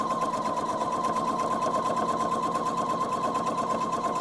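Domestic sewing machine running steadily in a fast, even rhythm with a clear motor whine, close and loud throughout, joining fabric on a thread catcher project with pins nearby.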